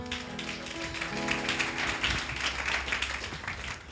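A church congregation applauds together, a dense, steady wash of clapping that runs the whole stretch, mixed with sustained keyboard or organ music beneath it.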